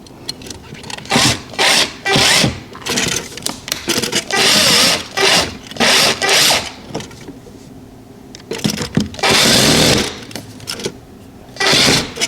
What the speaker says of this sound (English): and then just start drilling the screws in.